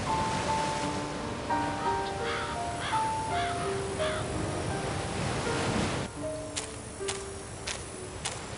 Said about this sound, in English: The waves are crashing here with particular violence.